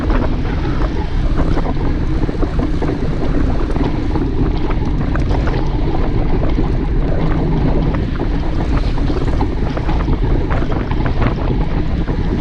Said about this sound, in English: Such a fair day, but very breezy. There was a strong northwesterly wind.